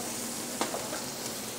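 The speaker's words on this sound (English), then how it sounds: "We're gonna melt a little bit of butter. You can hear it's already sizzling." Butter melting in a hot pot gives off a steady, quiet sizzling hiss that runs throughout, with a couple of faint ticks and pops and no voices.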